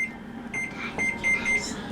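An oven timer being set for ten minutes gives a series of short, high electronic beeps, close by and spaced irregularly over a low room background.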